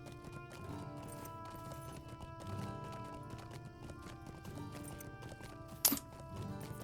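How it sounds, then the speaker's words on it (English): Horse hooves clip-clop at a steady riding pace in the online game The Lord of the Rings Online, faint and rhythmic over a tonal game music bed, with one brief louder burst near the end. "Just a bit of a horse ride here, off into the Forsaken Lands."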